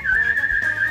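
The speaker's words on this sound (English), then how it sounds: "You don't whistle at Billy" A sustained, loud whistle from an audience member at a stand-up comedy show, held steadily for nearly a second with slight wavering in pitch.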